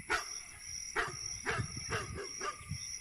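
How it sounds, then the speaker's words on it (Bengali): A dog barks at night in a village in a Bengali horror cartoon, about six short, fairly faint barks at a steady pace, alone. "কেবল মাঝে মাঝে কুকুরের ঘেউ ঘেউ আর ঝিঁঝি পোকার ডাক শোনা যায়।"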